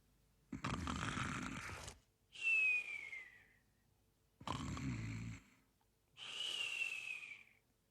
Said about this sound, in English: they heard someone or something snoring